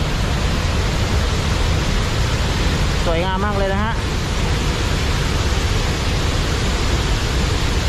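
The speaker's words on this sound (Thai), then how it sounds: "คือน้ำมาแรงมากนะฮะตอนนี้ คือสังเกตได้ว่า น้ำตกลงมาจะเป็นละอองฟุ้งกระจายไปหมดไปทั่วเลยนะฮะ" Haew Suwat waterfall in Khao Yai pours heavily in a constant, dense roar of falling water with spray, loud and close. Someone speaks briefly over it.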